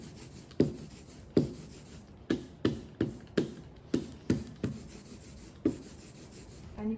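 Ink spread across a surface to make an ink pad for stencil monotype printing, giving about ten rhythmic, tacky scraping strokes that are close and quiet, with no talking.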